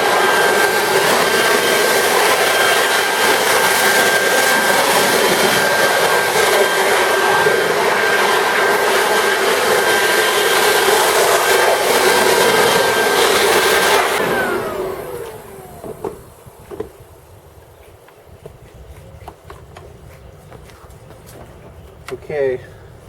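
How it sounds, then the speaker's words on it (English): A leaf blower roars steadily and loudly over a Bentley GTC engine bay for about fourteen seconds, blowing off standing water, then cuts out, leaving a quiet space with a few faint knocks and handling sounds. "I'm going to use the blower, the leaf blower. I'm going to blow out all the excess standing water."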